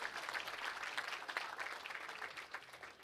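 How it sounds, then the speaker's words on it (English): An awards-ceremony audience at a championship weekend gives the sponsors a steady round of applause, dense and sustained clapping from a crowd without any talking. "please give our sponsors a moment, a nice round of applause"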